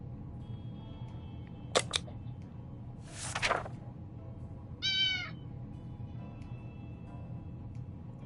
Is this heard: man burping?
no